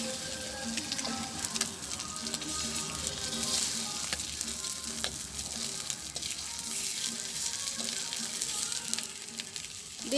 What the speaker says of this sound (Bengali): এখন ডিমগুলো ভাজি করে নেব।